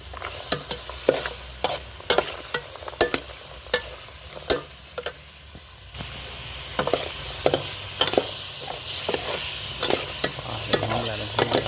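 Eggplants frying and stirred in a pan for a Lao-style pork and vegetable stew, a continuous loud sizzle punctuated by frequent quick scraping strokes of a spatula, briefly quieter before the frying swells again midway, with no talk.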